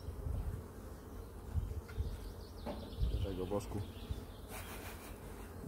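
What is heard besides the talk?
honey bees buzzing at an open hive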